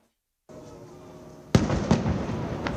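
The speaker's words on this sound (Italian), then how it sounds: "21 colpi di cannone sparati dalla nave della Marina Militare hanno accolto questa mattina l'arrivo in piazza San Marco" A Navy ship fires a 21-gun cannon salute in Venice: a loud booming blast followed by a second report, heard alone against open outdoor ambience.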